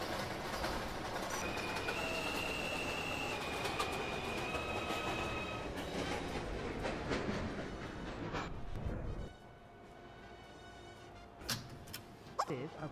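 A New York subway 2 express train bound for Flatbush Avenue–Brooklyn College runs with a steady rumble, a long high whine, and clicks, then quiets near the end with a few sharp clunks.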